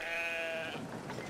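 A white sheep in the video game Brothers: A Tale of Two Sons lets out a single clear bleat, close and moderately loud, fading into faint background ambience.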